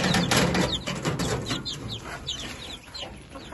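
Young chickens clucking and cheeping in a coop, several birds close by with overlapping chirps and soft rustling, lively at first and settling slightly toward the end.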